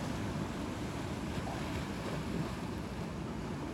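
Ocean waves at a beach, a continuous broadband wash and rumble with wind noise on the microphone, steady and moderately distant, with no one speaking.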